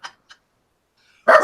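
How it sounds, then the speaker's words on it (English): A dog lets out one loud, close bark after two tiny faint yips, with near silence between them. "The dog started barking when I said speak up."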